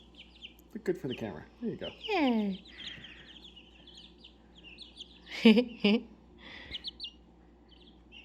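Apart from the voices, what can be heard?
chickens clucking on a homestead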